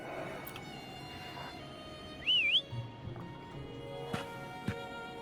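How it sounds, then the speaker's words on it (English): A short rising-and-falling whistle rings out clearly once to call Foam in Wuthering Waves, set against a quiet game ambience with a few soft thumps and tones afterward. "Try whistling."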